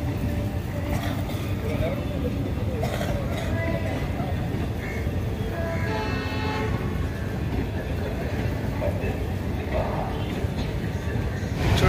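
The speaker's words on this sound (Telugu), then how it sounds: "లోకల్ ట్రైన్ చూడండి" A local train passes in Tamil Nadu near coconut groves, a loud steady rumble of wagons with rhythmic wheel clatter and a brief horn toot, with voices talking over it.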